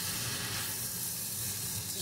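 Tomatoes cooking in a pan for a moringa gravy, giving a soft, continuous hiss and sizzle at low volume throughout, steady with no clear breaks and no voices.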